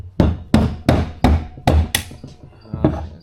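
Six or seven sharp, close taps on a Triumph 650 engine case to loosen it, evenly spaced at first and then pausing before a final knock, with each hit ringing briefly.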